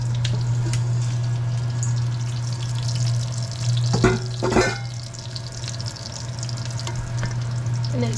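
Jalapeños simmering in syrup for candied cowboy candy, a soft continuous bubbling and sizzling under a steady stove hum, with a couple of brief clattering stirs midway.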